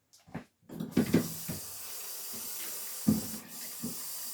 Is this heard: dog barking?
no